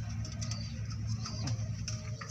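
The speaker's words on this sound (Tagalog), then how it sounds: "Sila kalapatids." Domestic blue bar pigeons with home rings coo softly and repeatedly nearby, a continuous low burbling murmur with no talk over it.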